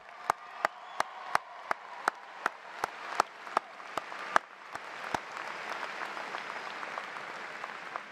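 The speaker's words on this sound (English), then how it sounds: "Give you guys a round of applause." A graduation audience applauds in a continuous bed of clapping, punctuated by a regular series of sharp, loud claps in a steady beat for about five seconds before the applause carries on without them.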